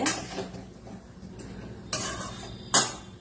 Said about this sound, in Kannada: ಚೆನ್ನಾಗಿ ಕೈಯಾಡಿಸ್ಬಿಟ್ಟು ಹಿಂಗೆ ಒಂದ್ ಸ್ವಲ್ಪ ಹೊತ್ತು ಕೈಯಾಡಿಸಿ